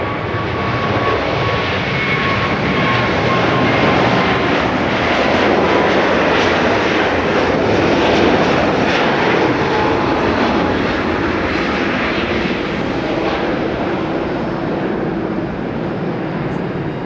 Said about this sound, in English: Looks like we've got a takeoff here. A350 that we saw earlier.